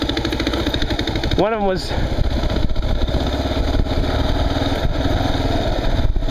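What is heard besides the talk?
KLR motorcycle engine running on a trail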